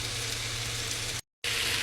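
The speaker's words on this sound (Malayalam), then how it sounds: "ഇനി നമുക്കിതിലേക്ക് വെള്ളം ഒഴിച്ച് കൊടുക്കാം" Water is poured into a pot of vegetable soup, making a steady close rushing splash. It cuts out briefly to silence before resuming, with no voices.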